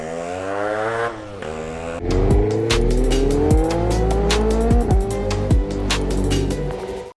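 A modified 1997 Yamaha RX-Z two-stroke motorcycle revs loudly close by, with a steady buzzing idle and then repeated sharp throttle blips that rise and drop in pitch several times.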